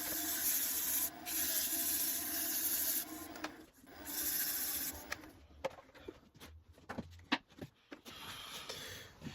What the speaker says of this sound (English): Sand this outside surface a little bit to be able to refine the bottom in a later step